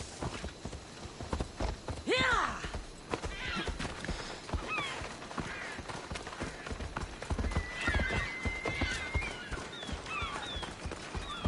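A horse in the ancient Greek world of the game Assassin's Creed Odyssey trots with steady, close hoof clops and neighs loudly once. Faint voices and other game sounds sit underneath.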